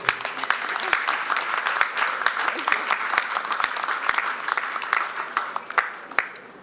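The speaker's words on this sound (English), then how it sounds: "You may applaud" Audience applause at the opening of the Marriott Hotel in Georgetown, a dense round of clapping with individual sharp claps popping out, holding steady for several seconds before thinning near the end.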